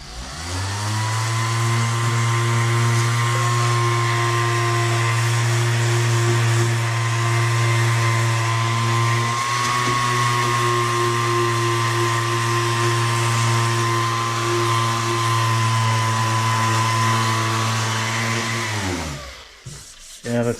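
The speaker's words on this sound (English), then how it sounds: "I'm using a random orbit sander with a 320 grit pad" A random orbit sander fitted with a 320 grit pad works on a motorcycle swingarm from a 1983 Yamaha IT 175, its steady, close whirring drone holding evenly before spinning down at the end.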